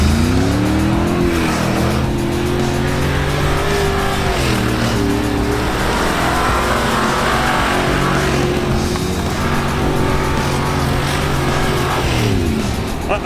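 A 2019 Mercedes-Benz G550 with exhaust baffles closed accelerates under load, a loud, continuous engine drone rising and dipping through gear changes, heard close with no talk over it.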